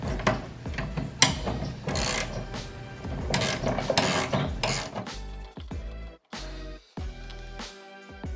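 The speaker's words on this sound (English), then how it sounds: "We're going to be tightening up all 4 of these bolts." Ratcheting clicks from bolts being tightened on a shop cart, quick bursts of mechanical pawl ticking with short pauses between them, close and fairly loud.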